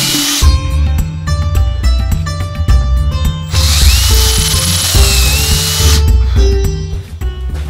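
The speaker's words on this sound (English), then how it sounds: "I'm gonna use a smaller bit, I guess, just a little tiny bit smaller. That way when I tap it, it'll give it more meat to bite onto." Small drill bit boring a pilot hole before tapping threads while building a table saw crosscut sled, heard as a loud, close whining drill sound that rises and falls across several seconds, with a steady tone between bursts.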